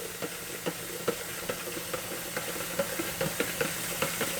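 Water pours into a Kool-Aid pitcher with a continuous hissing rush while a spoon stirs, adding light, regular clicks over the steady flow.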